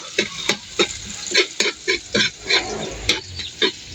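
Garlic and onion sautéing in a smoky pan, with about a dozen sharp, evenly spaced stirring scrapes over a low, steady sizzle close by.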